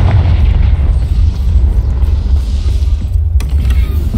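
A Confringo blasting spell explodes in the video game Hogwarts Legacy, giving a loud, continuous low boom and rumble with creaking, crackling debris and a sharp hit near the end.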